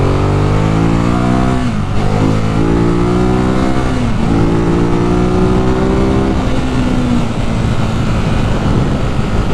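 A 2018 Ducati Monster 821 riding in second gear at moderate speed, its engine droning loudly with rising revs, short dips at gear-like breaks, and a steady wind-buffeted roar throughout.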